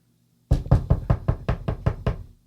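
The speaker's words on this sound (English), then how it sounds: "Benandonner knocks on the door." Eight firm knocks on a wooden door follow one another in a quick, even rhythm, close and clear with nothing else around them.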